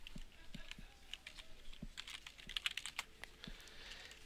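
Someone types a username and password on a computer keyboard: quiet, quick runs of key clicks over about four seconds, close and alone, with no talking.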